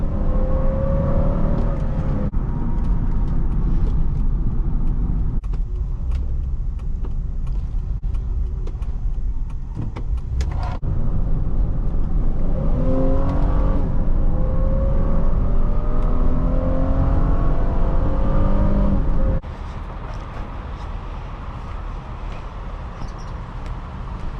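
A 2005 Honda Pilot EX-L engine drones steadily while driving, with rising and falling pitch as it accelerates and shifts, a constant rumble and road noise filling the cabin, ending a little quieter.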